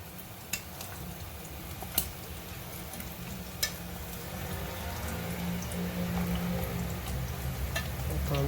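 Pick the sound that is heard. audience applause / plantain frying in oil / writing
plantain frying in oil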